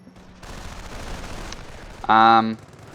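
A StuG assault gun fires a straight shot in Company of Heroes, a sharp loud blast with a ringing tail over a bed of game battle noise and faint background chatter.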